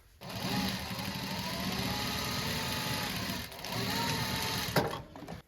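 Sewing machine stitching fabric for a rolltop rucksack, a steady fast mechanical whirr with a brief pause midway before resuming, close and fairly loud.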